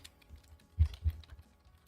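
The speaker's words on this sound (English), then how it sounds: "I'm sorry that you can hear my keyboard. I have a really loud keyboard." Clacking keystrokes from a loud computer keyboard, a few soft taps, then two sharper, louder presses close together, heard nearby with no talking.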